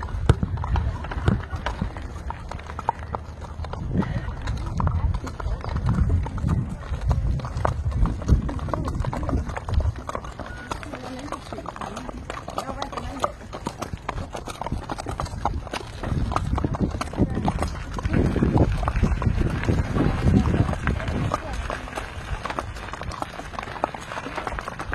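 A 16-year-old Tennessee Walker/Quarter Horse paint gelding moves along with rhythmic clip-clopping hoofbeats, steady and near, while people talk now and then over the footfalls.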